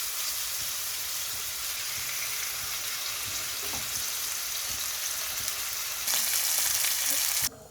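Mushrooms frying in butter in a pan give a steady, close sizzle throughout, with a few faint utensil taps, and the hiss swells louder near the end.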